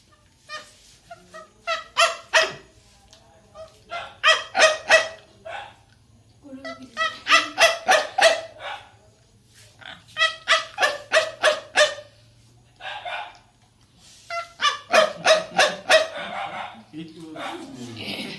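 A man imitates an Alsatian dog barking with his voice, giving repeated bursts of sharp, close barks in several groups separated by short pauses, with a low steady hum underneath.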